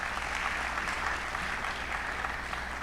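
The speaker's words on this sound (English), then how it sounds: "Please clap to that." Audience applause at a university DoSA Day honoring deans and personalities, a steady, moderately loud wash of clapping throughout with no talk over it.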